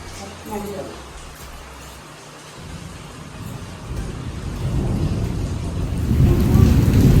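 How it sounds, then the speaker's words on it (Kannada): Heavy rain pours during a thunderstorm outdoors, a broad rushing hiss that swells louder toward the end, with occasional deeper rumbles. Voices talk over it early on. "ಫುಲ್ಲು ಮಳೆ ಗುಡುಗು ಸಿಡಿಲು ಮಳೆ"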